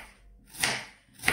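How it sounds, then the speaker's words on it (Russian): A ceramic knife chops comfrey root finely on a board, with two crisp, separate cutting strokes about half a second apart, close and fairly loud with no talk. "Нож я взяла керамический, чтобы соприкосновение корня с металлом не было. Режу как можно мельче."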